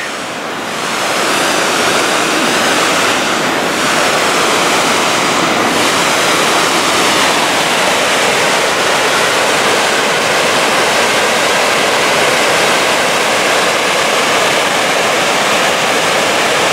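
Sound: water rushing powerfully out of a weir

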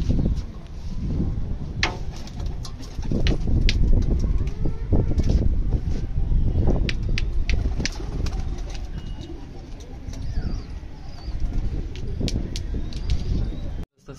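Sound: pigeons in a coop

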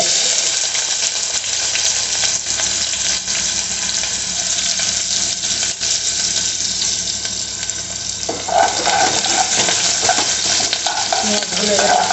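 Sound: ingredients frying in a pan

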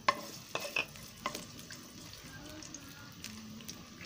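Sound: garlic frying in pan for pork menudo

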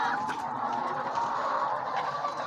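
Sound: chickens clucking in a coop

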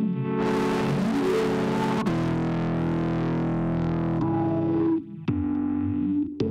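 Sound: distortion on sawtooth synth

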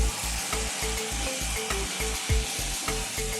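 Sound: stirring boiled brinjal with cashews and raisins in pan

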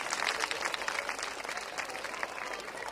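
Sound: audience applause at a festival

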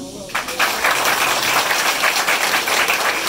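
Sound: audience applauding the principal at a graduation ceremony

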